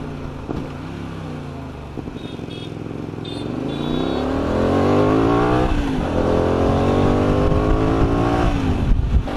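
A motorcycle engine revving up and down, dropping and rising in pitch through a downshift with the clutch dumped and engine braking, loud and close under wind noise.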